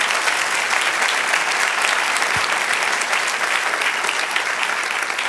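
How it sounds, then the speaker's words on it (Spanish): A church congregation applauds continuously, a dense, even wash of many hands clapping that stays loud and steady throughout with no talk over it. "Sí, dé el aplauso."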